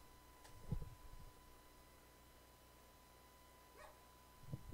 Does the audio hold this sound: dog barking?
yes